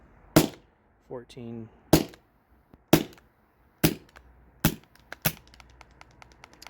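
A CO2 air pistol fires its last weak shots as the gas runs out: six or seven sharp, close cracks spaced about a second apart, with a brief voice speaking between them.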